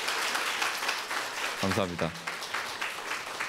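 Audience applause at a Korean disability-awareness talk show, a dense steady wash of clapping lasting throughout, with a voice briefly speaking over it midway.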